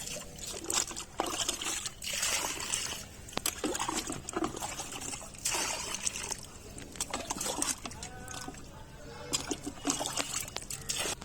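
Water poured into a lotus pot full of potting mix, trickling and splashing in uneven bursts while the soil is loosened, close by and moderately loud, with no talk.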